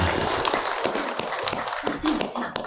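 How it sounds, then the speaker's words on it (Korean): Congregation applause in a church service after a sermon and hymn, uneven clapping with sharp individual claps over a busy room murmur, rising and dipping across the few seconds. "우리 하나님께 영광의 박수를 올려드리기를 원합니다."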